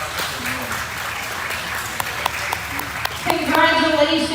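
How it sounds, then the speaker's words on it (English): Applause for kids in novice showmanship at a beef cattle show, the Jackson EMC Quality Beef Invitational, rolls on as a steady clatter of clapping, with a voice talking over it and growing louder near the end. "please give these kids a great round of applause for me today"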